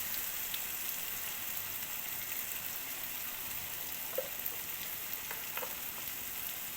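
Shredded cabbage fries with turmeric in a pan, giving a steady, even sizzle close by, with a few faint stirring clicks and no talking.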